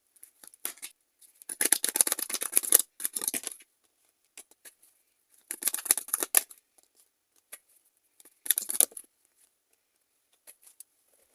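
Tarot cards shuffled and gathered back into the deck, heard as several close, crisp bursts of riffling and slapping separated by quiet pauses.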